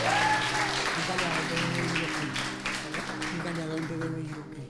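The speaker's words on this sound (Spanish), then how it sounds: "Aplausos para el Señor." A church congregation applauds, a steady wash of clapping mixed with voices and a sustained musical tone underneath, loud at first and tapering slightly.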